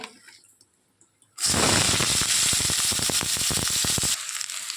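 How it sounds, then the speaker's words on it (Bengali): Chopped onion dropped into hot oil bursts into loud, crackling sizzle with rapid spitting pops, continuing steadily before easing slightly. "পেঁয়াজটাকে আগে দিয়ে দেবো তেলের মধ্যে।"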